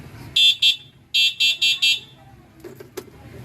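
Loud electronic horn on an e-bike blares in short bursts, two quick beeps then four more, close and sharp, followed by a few faint clicks and a low background hum.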